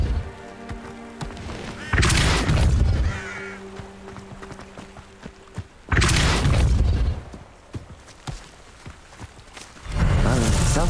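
A Depulso force spell from Hogwarts Legacy goes off in heavy, booming blasts: loud low bursts near 2, 6 and 10 seconds. Quieter rumbles and crackles fill the gaps between them.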